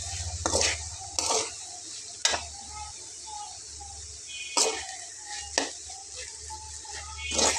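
Water spinach (kolmi shak) fries in a pan, a soft steady sizzle under repeated scraping strokes of a spatula against the metal, close and fairly quiet, with no talk.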